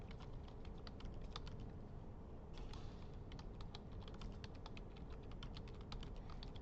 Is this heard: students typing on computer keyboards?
yes